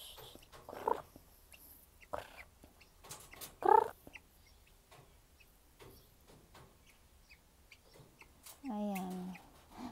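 Guinea fowl in a farmyard calling loudly, a few sharp harsh cries spaced apart ending in a rapid rattling burst, with people talking nearby.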